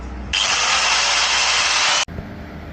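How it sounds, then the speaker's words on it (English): An angle grinder works on a TRZ motorcycle fuel tank during a two-stroke chopper build, a loud steady high-pitched whine that starts abruptly and runs for under two seconds before stopping sharply. "I do got the grinder out"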